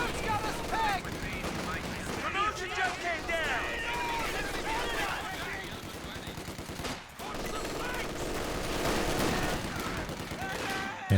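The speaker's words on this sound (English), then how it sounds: "Stolen MG42 locks that out." MG42 machine gun fire in a World War II strategy video game, rapid bursts and scattered gunshots crackling amid battle noise under steady commentary talk.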